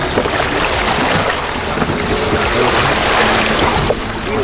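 A sailboat moves quickly through water, with a constant loud rush of spray and wash mixed with buffeting wind against the microphone.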